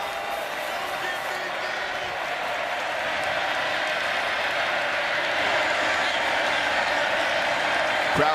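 A video-game stadium crowd at McLean Stadium in an NCAA Football 2025 Kansas State at Baylor matchup applauds and cheers while standing, a broad steady wash of clapping that swells slightly toward the end.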